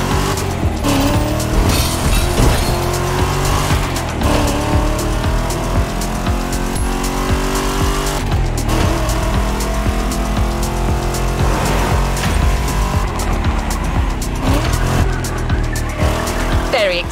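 A concept car's engine revs and roars loudly and continuously in The Crew Motorfest racing game, with tire squeal and skidding sounds mixed in.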